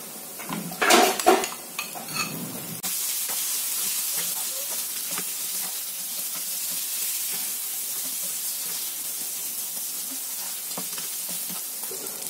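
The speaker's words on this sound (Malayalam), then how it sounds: "ചെമ്മീൻ ആഡ് ചെയ്ത് കൊടുക്കാം." Fried prawns tip into a pan of sautéed onions with a clatter of a spoon and the pan, then settle into a steady, close sizzle with light scraping as they are stirred.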